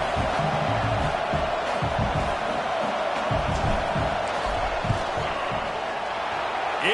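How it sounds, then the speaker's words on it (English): Dense crowd noise fills a football stadium during a fourth-down field goal attempt, a loud steady roar with rising shouts, whoops and scattered claps, heard alone with no talk over it. "This crowd trying to do its part to get inside the kicker's head"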